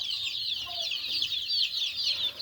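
A flock of chicks peeps continuously in a dense, high chorus, with chickens clucking faintly underneath, close and steady throughout with no talking.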